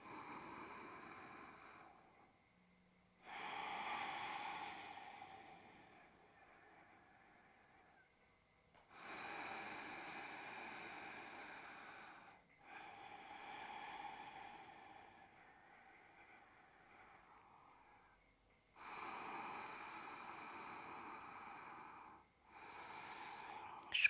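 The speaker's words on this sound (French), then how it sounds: "Profite aussi pour bien respirer, une respiration longue et profonde." Slow, deep breaths during a postnatal yoga core session, long airy inhales and exhales alternating with pauses, close and fairly soft with no talking.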